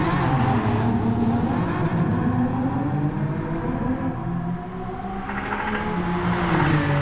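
Aston Martin Vulcan with a 7-litre V12, revving hard in GT Sport as a steady, loud, rumbling engine drone with shifting pitch runs throughout.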